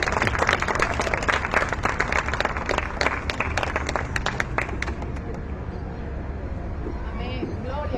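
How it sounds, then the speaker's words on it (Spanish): Congregation in a church applauding, a dense burst of clapping that starts loud and gradually thins out, with voices speaking over it. "Y démosle un fuerte aplauso al Señor."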